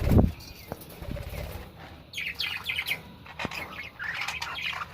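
Budgerigars in a colony cage give scattered squawks and chirps, faint and somewhat distant, with a few low knocks and thumps between the calls.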